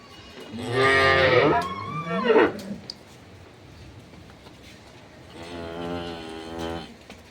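Two long, loud cow moos ring out close by at a dairy farm with Sahiwal cross cattle, the second one softer and farther off, with quiet pauses in between.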